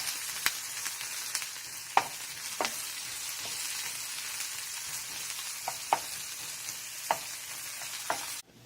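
Onions sauté in hot oil with mustard and cumin seeds, a steady close sizzle with a few sharp stirring knocks against the pan scattered throughout, no voices.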